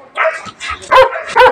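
A dog barks close and loud: a soft opening yip, then two sharp, full barks in quick succession.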